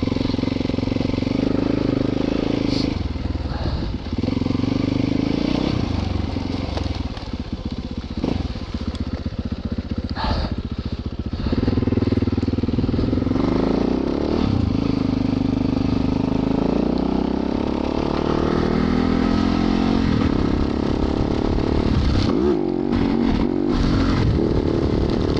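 Yamaha YZ450FX dirt bike with big wheels and new tires spinning its rear wheel in swampy snow, the engine revving loud and close with steady droning throughout and some brief crackles.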